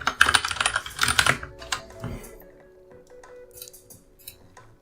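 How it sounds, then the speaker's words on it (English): Quick bursts of typing on a computer keyboard, a dense cluster of clicks followed by a few scattered keystrokes that trail off into quiet. "I'm typing up the form for you guys."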